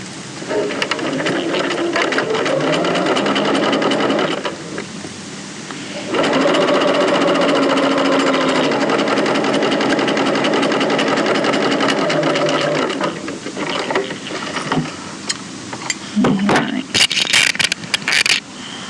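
A sewing machine stitches a strapped cuff opening on a garment in long runs of steady, close mechanical whirring, pausing briefly between runs, with fabric handling and clicks near the end.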